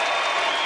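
A crowd applauds at a Mosconi Cup pool match, a brief, dense burst of clapping from a packed arena.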